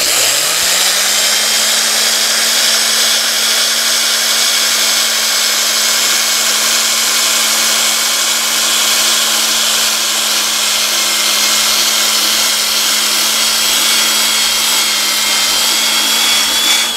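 A power sander works a red oak bowl turning on a lathe, a loud continuous whirring drone with a steady hum and broad hiss that spins up at the start and holds unbroken throughout, with no talk.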